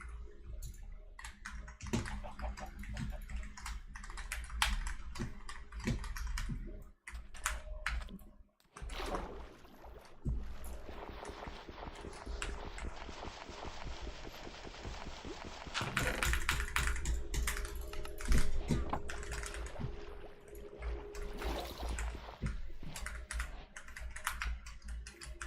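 Rapid, continuous clacking on a computer keyboard during speed typing of the alphabet, close and busy, with brief pauses and a stretch of hissy background noise.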